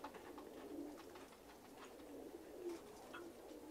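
Beşiktaş breed pigeons coo softly and steadily, a low murmuring call repeated throughout amid faint rustling, with several birds close by.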